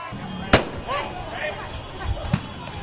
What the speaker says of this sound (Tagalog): Ilang beses din namaril ng rubber bullet ang mga pulis.